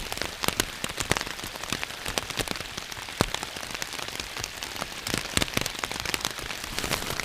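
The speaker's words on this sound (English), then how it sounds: "That's rain." Steady rain falls outdoors during a fishing trip, with close, crisp droplet impacts forming a constant hiss of patter and no voices.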